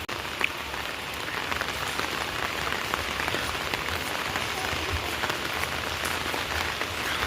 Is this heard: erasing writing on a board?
no